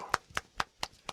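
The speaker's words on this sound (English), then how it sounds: "one hand clapping" Single-handed claps made by flinging a loose, flat hand toward and away from the body: five sharp, close slaps spaced evenly about a quarter second apart in a quiet room.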